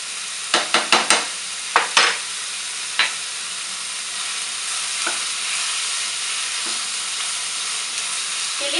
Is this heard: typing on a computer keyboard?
no